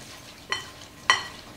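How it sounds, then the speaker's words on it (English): Nuts stirred in a bowl with an olive oil and agave mixture, giving two brief scraping clinks of a utensil against the dish, close and quiet. "I'm just going to give this a quick stir so that each nut is coated."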